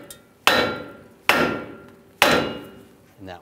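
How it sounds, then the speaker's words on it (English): Three sharp, ringing hammer strikes knock a ball joint out of the steering knuckle on a 2011-2018 Ram 1500 front end, evenly spaced about a second apart, each decaying quickly. "or just giving it a tap with a hammer."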